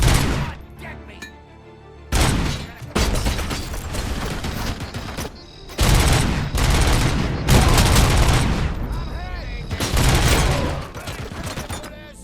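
Heavy gunfire in RoboCop: Rogue City, a shooter video game, with loud sustained bursts of automatic fire broken by short pauses, dense and close amid battle noise.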